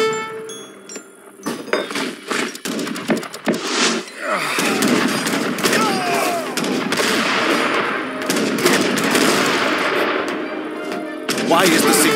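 Bombard artillery fire booms across a battle in Age of Empires 3 Definitive Edition, with a string of heavy blasts and clattering gunfire swelling into a dense, sustained barrage, while a voice speaks briefly near the start.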